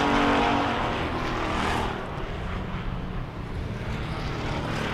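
Wissota pure stock race cars at speed on an oval racetrack during a heat race, a loud continuous engine roar with a broad rushing drone that swells early and then holds steady.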